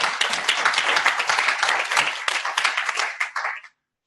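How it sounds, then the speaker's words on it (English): A meeting audience applauds after a resolution vote, brisk dense clapping that stays strong and then tapers off quickly to silence near the end. "So, a round of applause"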